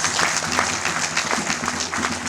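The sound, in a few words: audience applause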